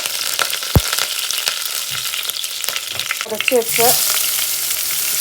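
Curry leaves hit hot oil with already-popped mustard seeds, ginger and garlic, giving a loud, close, continuous sizzle and crackle, with a brief stirring clatter near the end and a few quiet spoken words over it.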